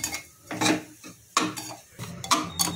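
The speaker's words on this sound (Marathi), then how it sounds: "त्याच्यामध्ये आपण रवा टाकून घेऊया आणि हे तुपामध्ये छान भाजून घ्यायचं" Semolina roasts in ghee in a pot while a spoon stirs it, making a few separate scraping, clinking strokes against the metal, up close with no talk.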